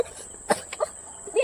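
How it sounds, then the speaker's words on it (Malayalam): A person with a bad cough gives a few short, sharp coughs close by, with some voice sounds around them. "എനിക്ക് ഭയങ്കര ചുമ"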